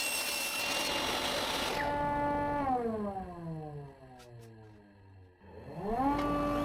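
A power tool cuts a piece of 6 mm plywood with a harsh buzzing cut, then its motor whine falls in pitch as it spins down and revs back up at the end, close and alone.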